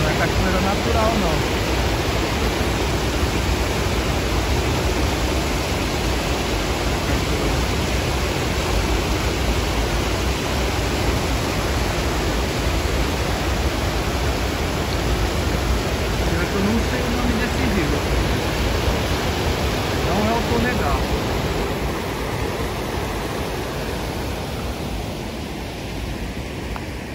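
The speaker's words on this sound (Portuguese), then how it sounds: "Não é cachoeira natural" Steady broadband rush of an artificial waterfall in Honjo, Saitama, continuous and fairly loud throughout, with faint voices now and then beneath the roar.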